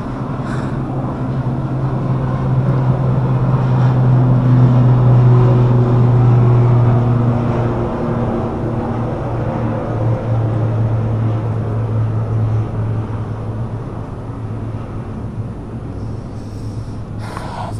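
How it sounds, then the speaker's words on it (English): An aeroplane taking off near Mae Hong Son, Thailand, heard as a loud, sustained low engine roar that swells and holds steady, then gradually eases over nearly eighteen seconds. "That's one aeroplane taken off."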